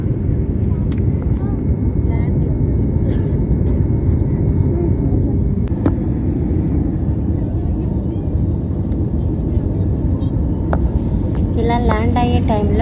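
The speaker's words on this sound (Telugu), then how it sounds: "సో ఇంకా మన ఫ్లైట్ వచ్చేసి ల్యాండ్ అవుతుంది" Steady loud cabin roar of an airliner descending to land at Srinagar, a constant broadband rumble with a few faint clicks and a brief chime near the end.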